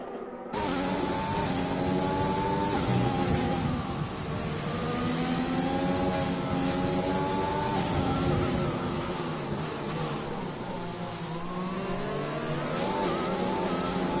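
A black Mercedes race car laps the Bahrain circuit in a racing video game, its engine droning steadily and loudly throughout, pitch climbing and dropping with each gear change and corner.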